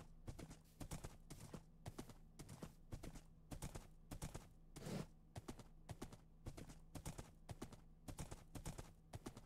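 Horse hooves clip-clopping in the Minecraft video game, a quick irregular run of sharp clops close by, some in fast pairs, steady throughout with a faint low hum underneath.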